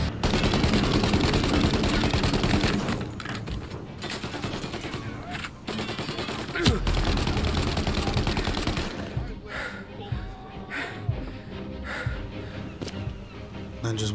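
Dense gunfire from a sniper and enemies in the Mafia Definitive Edition game, loud continuous bursts and sharp shots with a strong crack midway, mixed with game noise and occasional voices.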